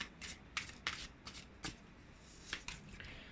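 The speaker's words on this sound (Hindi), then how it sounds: "देख लेते हैं और क्या कार्ड निकल करके आ रहा है।" Tarot cards are shuffled and drawn by hand, giving a quiet run of crisp papery flicks and snaps spread irregularly over a few seconds, with no voice.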